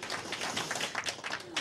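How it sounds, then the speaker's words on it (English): An audience applauds Renee as she steps up, a crowd's quick irregular claps rising and falling over a couple of seconds. "So please give her a round of applause for stepping into this."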